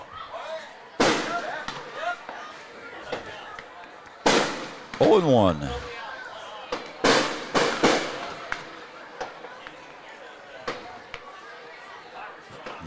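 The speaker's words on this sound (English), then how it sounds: "The neighbors want to get their fireworks in before the big stuff starts." Fireworks bang in loud, sharp bursts near a Fourth of July American Legion baseball game in downtown Wahpeton, with several irregular cracks and booms spread across the stretch while a commentator talks between them.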